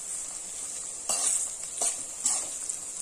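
Onions sautéing with rock salt in a pan for an adamant creeper curry: a steady sizzle runs throughout, with three brief louder bursts of stirring and scraping spaced across the clip.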